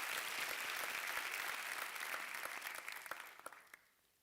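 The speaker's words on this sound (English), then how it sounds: "Please give him another round of applause." An audience at a University of South Africa graduation ceremony applauds in a dense, sustained wash of clapping, thinning into a few scattered final claps before fading out.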